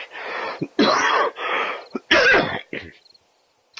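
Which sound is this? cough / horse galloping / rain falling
cough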